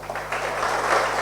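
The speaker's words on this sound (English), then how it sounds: "Can we have a round of applause, a louder one applause? Can you all start clapping?" An audience at a talk claps together, producing a brief, steady burst of applause that builds slightly toward the end.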